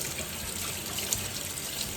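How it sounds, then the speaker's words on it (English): Homemade butter rinsed under cool running tap water, a steady close splash and trickle from a faucet into a sink, with no voices. "I like to do it under cool water and just do it until the water is clear"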